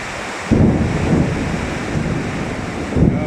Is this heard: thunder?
yes